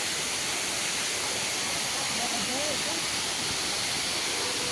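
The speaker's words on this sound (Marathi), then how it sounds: "आणि हा इथून वरतून धबधबा आहे." Waterfall pouring from above at a hill fort with rock-cut caves: a constant broadband rushing hiss fills the whole clip, steady and fairly loud, with faint voices beneath it.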